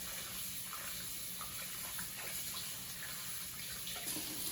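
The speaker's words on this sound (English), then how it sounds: "I'm going to be rinse it," Cold tap water runs steadily into a kitchen sink while raw beef for bulgogi is rinsed to wash out the blood, a continuous close splashing hiss with small irregular spatters.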